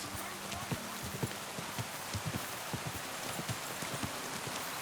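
Horse hooves clip-clop at a steady walking rhythm through rain in the medieval game Kingdom Come: Deliverance II, moderately close, with a constant wash of rainfall behind the hoofbeats and a voice speaking briefly.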